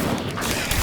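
An Incendio fire spell cast in the video game Hogwarts Legacy gives a short, dense crackling whoosh of flame, loud and close, lasting under a second.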